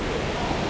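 Waterfall at Gardens by the Bay in Singapore, a steady broadband rush of falling water that fills the short moment evenly and loudly, with no breaks and no talking.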